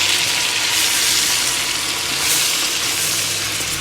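Potatoes and cabbage with butter tossed and frying in a pan, a loud continuous hiss and sizzle with slight swells as the pan is moved, close up with no talking.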